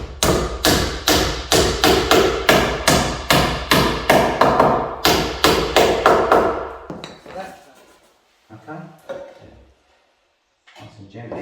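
Wooden dowels are hammered into a staircase, a quick series of about twenty sharp, loud, evenly spaced knocks, followed by quieter handling noises and pauses.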